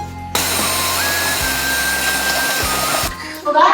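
A power drill bores a hole through a house wall to fit an air conditioner, making a loud, continuous grinding whine for about three seconds before it stops abruptly.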